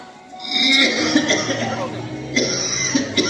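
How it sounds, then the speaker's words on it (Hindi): A man coughs in a stage drama by school boys, a quick cluster of harsh, close, fairly loud coughs packed into a few seconds. "दिन भर बस खांसते रहते हैं।"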